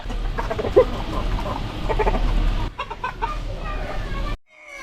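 Hens on a poultry farm cluck in close, repeated bursts over a steady hum, several birds overlapping before the sound cuts off abruptly near the end.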